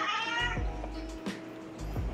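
A cat meows indoors at home, several drawn-out meows in a row, close but fairly soft.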